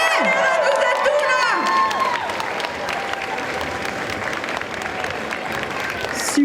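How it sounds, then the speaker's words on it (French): An audience at a cosplay contest during the Rennes Japan Manga Wave 2023 applauds and cheers the participants, with steady clapping and crowd noise filling the hall and a host's voice speaking over it. "On les applaudit plus fort que ça quand même parce qu'ils ont tout donné"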